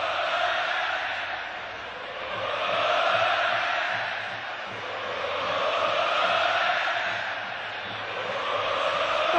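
Football crowd at a Fluminense vs Arsenal Copa Libertadores group-stage match in 2008, a steady roar of fans with swelling, rolling chants rising and falling in waves, dense and continuous throughout.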